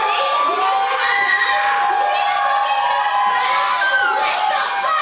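A large audience of children at a comedy roast cheers, shouts and whoops together, a loud, continuous wall of excited voices from start to finish.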